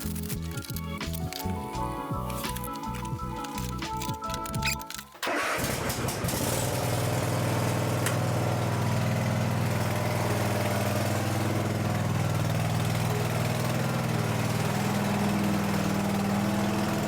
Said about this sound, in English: I'm going to go mow the lawn